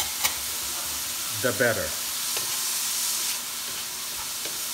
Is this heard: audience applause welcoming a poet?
no